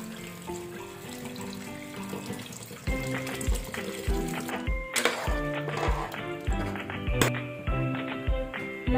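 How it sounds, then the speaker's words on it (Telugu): Water is poured into a cooking pot while making soya chunks biryani, eight measured glasses for four glasses of rice, a steady watery splash under rhythmic background music. "8 గ్లాసెస్ వాటర్ పోస్తున్నాను"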